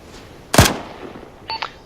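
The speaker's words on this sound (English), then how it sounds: "Gunshots coming from that guy's, from the hostage's general direction that's getting moved." A single sharp gunshot in a military shooter video game, followed by a brief electronic beeping burst, with quiet background otherwise.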